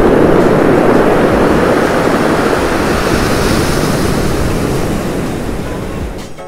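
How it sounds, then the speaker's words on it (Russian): Strong Atlantic waves crash against rocks along a wild stretch of coastline, a loud continuous roar of surf with heavy wind buffeting the microphone. "очень-очень буйный океан, сильные волны, бьются о скалы"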